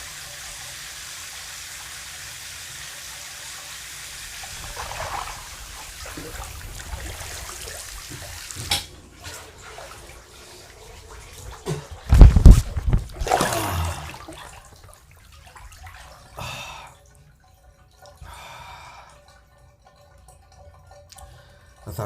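Steady rush of a waterfall, loud and continuous at first, then breaking into uneven splashing and trickling bursts with a louder surge near the middle before fading to quieter dribbles.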